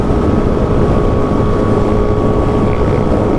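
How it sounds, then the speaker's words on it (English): Steady roar of wind buffeting a rider at 65 mph on a 2016 Yamaha FZ-09 motorcycle on the highway, a dense continuous rush with the engine's drone beneath, loud and unbroken throughout. "The wind at 65 now, I can give you guys a better idea."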